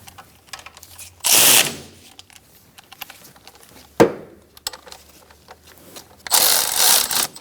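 A power tool snugs the brake caliper bolts on a 2004–2009 Mazda 3 front brake, giving two loud bursts of whirring with a sharp knock between them and quieter clatter in the background.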